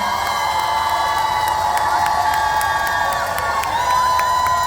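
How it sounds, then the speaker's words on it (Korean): A fan club crowd at an outdoor beef festival in Mungyeong, Korea, claps and cheers loudly and continuously, with high whoops and shouts rising above dense applause throughout. "이분들께 박수 한 번만 부탁드립니다"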